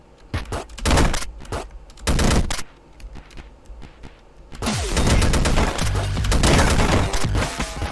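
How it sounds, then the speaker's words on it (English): Machine-gun fire in the video game Downwell: bursts of rapid shots break out twice early on, then a sustained, loud rattle of gunfire with crunching impacts fills the last three seconds. "Oh, that's health. Machine gun."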